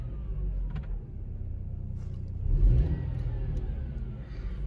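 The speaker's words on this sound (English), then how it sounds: "I am back in the car. I'm gonna see if it starts and if the problem has been fixed." A Mercedes car engine, just repaired after a battery drain fault, cranks and catches, then settles into a steady close idle, heard from inside the car.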